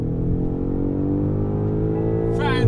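BMW M5 accelerating on the Yas Marina Circuit, a steady rising engine drone with climbing harmonics heard from inside the car, continuous and fairly loud throughout.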